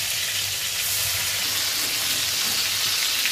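Pangas fish frying in oil in a pan, a steady bright hiss and crackle of sizzling, close and continuous with no talking.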